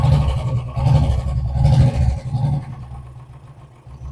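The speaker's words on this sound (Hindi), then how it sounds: "देखिए बाइक एक किक में स्टार्ट हो गया।" A Royal Enfield Classic 350 with a white smoke problem, just kick-started, runs with a loud, close, low thumping beat that fades into quiet after a few seconds.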